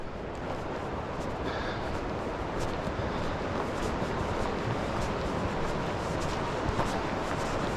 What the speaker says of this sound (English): You can hear the rapids.